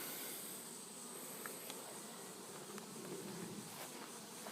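A honey bee swarm buzzing near a porch, a faint, continuous hum of many insects with no voices over it.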